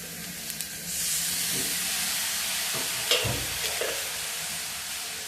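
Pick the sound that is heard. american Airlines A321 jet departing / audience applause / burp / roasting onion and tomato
roasting onion and tomato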